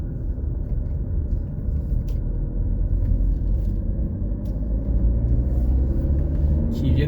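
Rally cars on reconnaissance runs over the Morillon–Samoëns special stage of the 2023 Rallye du Mont Blanc, a steady loud engine and road rumble with tyre noise, continuous and close throughout.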